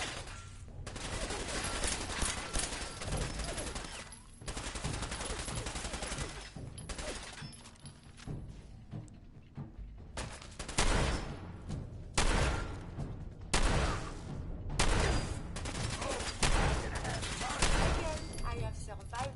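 Dense gunfire in the Fallout 4 video game: sustained bursts of rapid shots and automatic fire with thuds, loud and near, broken by brief lulls, with some speech mixed in.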